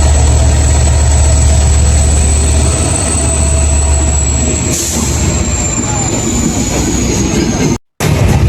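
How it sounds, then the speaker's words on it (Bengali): A train pulling into a station rumbles loudly and close, with a sustained high metallic squeal of wheels or brakes over the heavy engine drone that eases partway through before a sudden brief dropout near the end. "অবশেষে কাঙ্ক্ষিত ট্রেন চলে আসলো"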